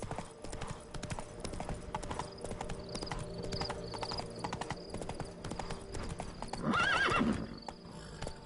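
A horse in The Witcher 3 video game trots with steady clip-clopping hooves over game background sound, then gives one loud, close whinny near the end.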